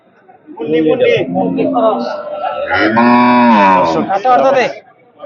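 Dairy cows moo loudly and close at a busy cattle market, long drawn-out calls repeating over several seconds amid nearby voices.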